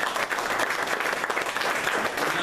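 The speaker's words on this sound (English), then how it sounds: "if y'all want to give him a hand clap" Audience applause at a boxing post-fight press conference, steady dense clapping from a crowd filling the room throughout, with a faint voice beneath.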